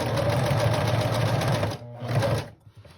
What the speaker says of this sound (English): Lifting my presser foot and going around the edge to the other ear.